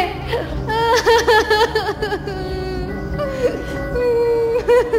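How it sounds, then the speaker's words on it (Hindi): A woman cries and wails in a horror story scene, her voice wavering and breaking into sobs. The sound is loud, close and continuous, with a dim rumble underneath. "तभी उसे एक औरत के रोने की आवाज सुनाई देने लगी।"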